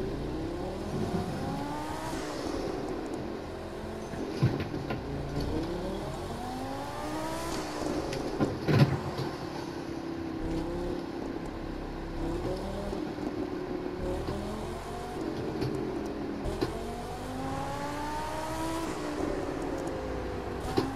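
A car with a very low front end backing up: the engine hums and revs in repeated rising pitch sweeps as it manoeuvres, steady and moderately close, with no clear scraping.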